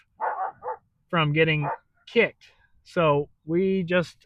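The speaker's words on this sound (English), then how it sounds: "you'll have to excuse my dog barking in the background." An Australian Shepherd dog barks in the background near horses, several short barks mixed in with a person talking in the foreground.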